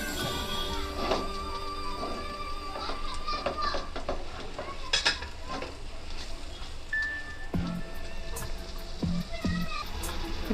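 Mashed potato samosa filling being stirred in a pan, soft scraping and clinking of a spoon against metal over a faint sizzle, with a few brief tones and knocks nearby.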